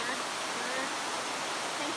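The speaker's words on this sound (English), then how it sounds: "So this is a completely man-made waterfall." A man-made waterfall inside the large netted aviary at Jurong Bird Park in Singapore pours in a steady, dense rushing wash of water, close and unbroken.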